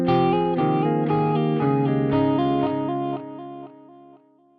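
Guitar chords played through an Archetype: Plini X delay with the tone dial all the way up give bright, crisp repeats that stack in a steady rhythm, then trail off and fade over the last second.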